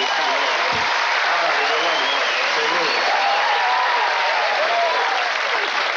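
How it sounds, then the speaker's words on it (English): Strong, continuous audience applause fills the room for comedian Louie Anderson at a 1985 HBO young comedians special, a dense, even roar of clapping with faint voices mixed in. "Give him a big round of applause"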